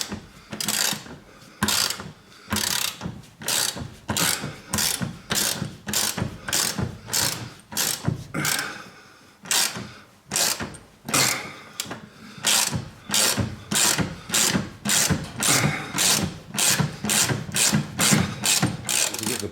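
Ratchet wrench undoing the radius arm bushing bolts from the floor pan of a Jaguar with independent rear suspension, a loud, close run of rapid clicking strokes. The strokes come in steady bursts with short pauses between them.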